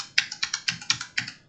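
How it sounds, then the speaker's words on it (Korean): Arrow keys on a computer keyboard are pressed while testing a game program, giving about nine crisp, close clicks in a quick, slightly uneven rhythm with no talk. "키보드 방향키 누르고"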